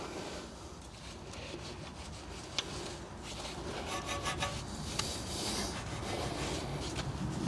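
A Gyeon brush scrubs a ceramic-coated Porsche 964 during a hand wash, producing soft, continuous bristly rubbing with a few faint clicks, heard close but quiet and without talk.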